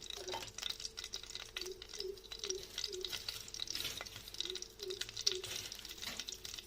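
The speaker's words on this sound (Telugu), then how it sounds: "పోపు దినుసులు వేగిన తర్వాత దీంట్లో కరివేపాకు వేసుకోండి" Curry leaves added to hot tempering oil with fried spices, frying and sizzling steadily with repeated stirring strokes, fairly soft and close, with no talk.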